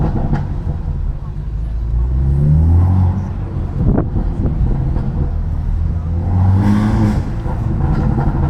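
A 700 hp BMW F80 M3 running E85 with a loud aftermarket exhaust rasps and rumbles nearby, swelling in two rising revs with a crackle between them, while people talk over the engine.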